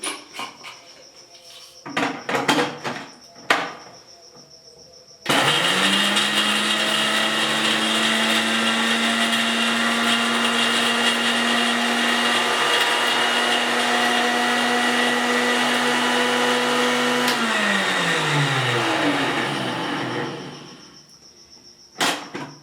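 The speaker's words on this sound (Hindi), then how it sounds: "तो अब हम इसको ग्राइंड करते हैं।" An electric grinder runs on roasted biryani spices after a few clinks and taps, whirring loud and steady for about fifteen seconds before its motor winds down.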